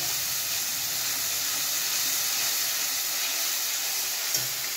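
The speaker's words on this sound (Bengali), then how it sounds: "এটা আমি ক্রমাগত নাড়তে থাকবো।" Spices frying in a hot pan for an egg potato curry while being stirred continuously give a steady, loud, even sizzle that fills the whole stretch, with no voices.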